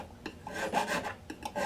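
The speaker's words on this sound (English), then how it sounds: "Our auger file." An auger file rasps across the fret ends of a classical guitar during a refret, a series of short, quiet scraping strokes in uneven rhythm, close up with no talking.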